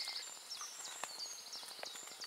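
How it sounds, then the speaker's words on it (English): Birds singing in a leafy woodland: scattered high chirps and short warbling phrases, faint and fairly distant, repeating irregularly over a soft background hush. "Replete with the sound of bird life."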